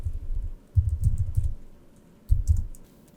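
Fingers tap quickly on a computer keyboard in two close, clattering bursts of keystrokes, with a short quiet pause between them.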